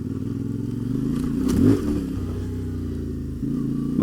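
A 450MT motorcycle engine drones steadily, then surges loudly as the rider guns it over a tree jump, easing back to a rumbling idle-like run.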